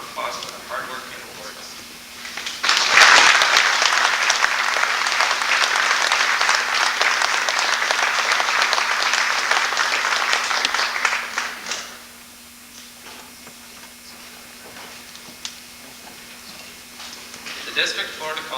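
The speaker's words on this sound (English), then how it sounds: "let's give everyone a round of applause for their hard work and awards." Dense, sustained applause at a 50th anniversary banquet evening for award winners, starting abruptly after a few seconds, holding loud and steady for about nine seconds, then fading to murmur and scattered claps.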